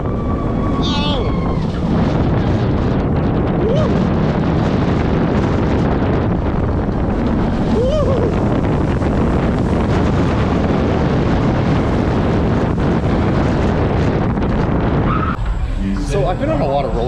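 Roller coaster at Lagoon amusement park in Utah rushing at speed, a loud continuous roar of wind buffeting the microphone for most of the ride, easing off near the end.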